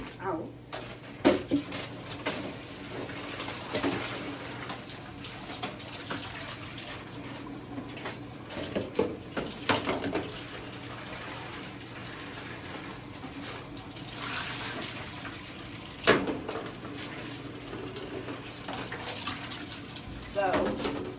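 Tap water running in a kitchen sink to rinse out a dish, a steady wash of water with clinks and knocks of the dish throughout, and a few louder splashes and bumps.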